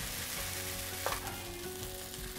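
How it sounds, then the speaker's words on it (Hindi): Vegetables and noodles stirred together in a hot pan, a soft, even sizzle with a single brief spatula scrape partway through. "अब सारी सब्जियों को और नूडल्स को अच्छी तरह से मिक्स कर लेंगे"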